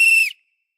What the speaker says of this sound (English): Since our super clue is a whistle